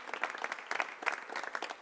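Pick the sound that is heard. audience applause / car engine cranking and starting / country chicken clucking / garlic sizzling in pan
audience applause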